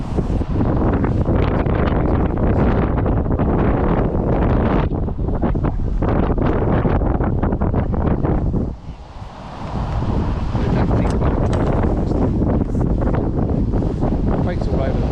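A strong 45-mile-an-hour wind gust roars across an outdoor fishing spot, buffeting the microphone with loud, continuous broadband rushing that briefly dips before surging back at full force.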